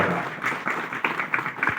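An audience at a Christmas celebration claps in a loose, uneven patter of handclaps with a few sharper individual claps standing out, moderately close, with faint voices underneath.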